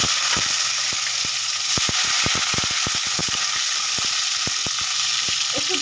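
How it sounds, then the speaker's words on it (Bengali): Coarsely chopped onion and tomato fry in a pan for a jackfruit curry, giving a constant loud sizzle over a quick, uneven run of sharp clicks and taps from a stirring spoon. "একটু ভেজে নেব ভালো করে"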